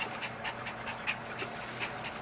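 A dog pants quickly and rhythmically close by, a steady run of soft breathy puffs over a low background hum.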